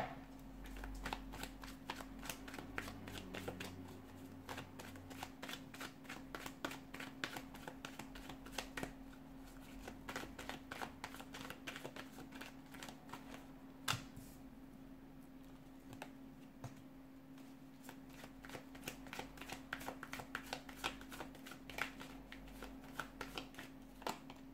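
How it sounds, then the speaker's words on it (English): A deck of tarot cards being shuffled by hand, rapid rippling riffles and soft slaps repeating close up over a steady low hum, with no talking. "give the cards a shuffle"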